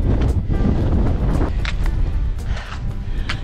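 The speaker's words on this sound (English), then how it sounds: "Quite windy now." Strong wind buffets the microphone on an exposed fell during the Lakeland 50 ultra running race in the Lake District, a loud, rushing roar with gusty surges and no talking.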